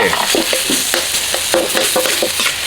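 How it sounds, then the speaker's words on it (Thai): Beef cut for crying tiger being dry-roasted with red curry paste in a pan without oil over low heat, a steady close sizzle broken by repeated quick scrapes of the spatula. "เอาไปคั่วในกระทะไม่ต้องใส่น้ำมัน นี่ คั่วพร้อมกับน้ำพริกแกงเผ็ดเอาไปเลย"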